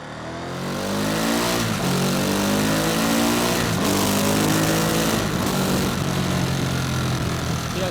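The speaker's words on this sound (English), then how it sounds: "I was using the throttle like maybe a quarter of a pull before each shift." Engine of a 2023 Ducati Monster+ motorcycle revving continuously and loudly close by, rising and dropping in pitch through repeated gear shifts with quarter-throttle pulls, no talking.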